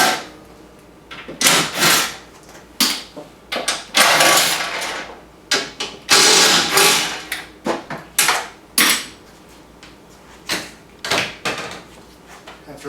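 Four T30 screws come out of the bed of a Wildcat Sport, giving a series of close, loud bursts of whirring and rattling from a driver, separated by short pauses.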